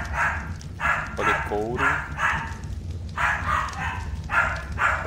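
A dog barks in a repeated series of short, fairly close barks, mixed with a person talking throughout.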